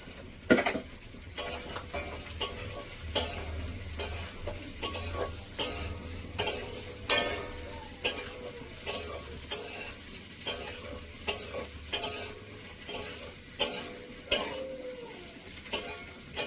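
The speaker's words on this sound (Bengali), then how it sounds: "দেখুন পেঁয়াজটা দিয়ে হালকা করে ভেজে নেব" Onions frying lightly in a pan for a chicken dish, a soft continuous sizzle punctuated by regular spatula scrapes and taps against the pan roughly every second, close and steady with no talking.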